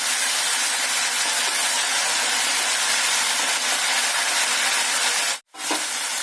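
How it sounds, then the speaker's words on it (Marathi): Water hissing and bubbling as it comes to a boil in a pan while cooking fodnichi bhakari, a steady close-up seething that runs unbroken before a brief cut near the end. "पाण्याला आता छानशी उकळी आले"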